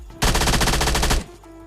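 A single sustained burst of automatic gunfire in PUBG Mobile Lite, about a second of rapid evenly spaced shots, loud and close, followed by a quiet tail.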